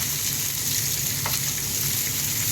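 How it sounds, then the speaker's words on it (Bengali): Pieces of rohu fish frying in oil in a pan, giving a steady, even sizzle heard close up for the whole stretch, with one brief crackle and no talk. "এই মাছটা ভেজে নিচ্ছি।"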